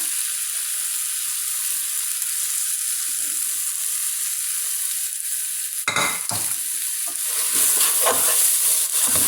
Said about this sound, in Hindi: अच्छे तरीके से मिक्स करूंगी और मुसलसल चम्मच चलाती रहूंगी ताकि नीचे ना लगे